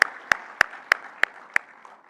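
Six evenly spaced, sharp single claps, about one every third of a second, close and distinct against quiet, at an awards ceremony for winners.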